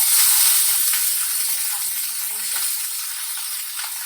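Raw banana pieces go into hot oil after the garlic, and the oil keeps up a continuous, fairly loud sizzle, with a faint clink partway through.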